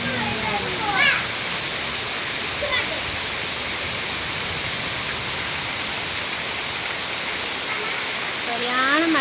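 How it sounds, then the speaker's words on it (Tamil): Heavy monsoon-style rain pours down while floodwater rushes past, forming a dense, loud, unbroken wash of noise. Faint voices rise briefly in the background. "சொல்லிக்கவே முடியாத அளவுக்கு மழை."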